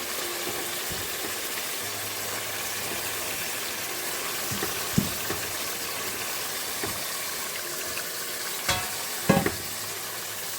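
Beef pieces fry in a spice paste, a steady broad sizzle close up, with a few soft knocks and scrapes of a spoon stirring the meat in the pot, no voices.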